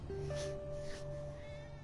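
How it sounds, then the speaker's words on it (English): A cat meows in Final Fantasy VII Remake, a single drawn-out, clear meow over quiet game background ambience. "That cat again."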